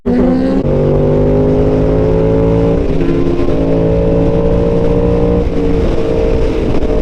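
A superbike engine, one of a BMW M1000RR, Suzuki GSX-R1000 or Yamaha MT-10, pulls hard on the road, loud and close, its droning pitch climbing steadily through several gear changes.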